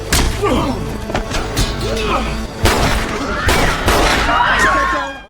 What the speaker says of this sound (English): After hearing the gunshots, everyone attending the party immediately runs outside.